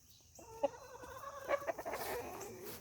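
A rooster clucks and calls near a backyard flock of hens, giving a run of short, nasal clucks that builds into a louder burst of squawks.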